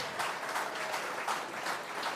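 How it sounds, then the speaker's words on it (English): A church congregation applauds its volunteers during a service, a steady wash of clapping from many hands in a room, fairly soft, no one speaking over it. "let's clap again for our volunteers"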